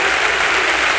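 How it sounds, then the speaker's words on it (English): A church congregation claps, a steady wash of many hands heard briefly and evenly. "Let's give Him a big clap tonight."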